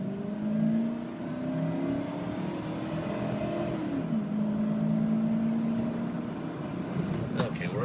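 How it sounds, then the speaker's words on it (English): A 2007 Ford F150 King Ranch pickup's engine drones and climbs under load during a short burnout, heard from inside the cab at moderate volume, with a voice speaking over it. "Okay, a little burnout there."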